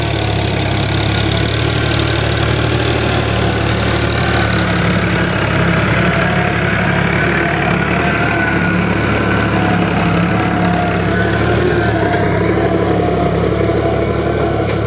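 A tractor engine, likely a 480 76 model, idles steadily and loudly close by for the whole stretch, a continuous low rumble with a faint knocking beat and no voices over it.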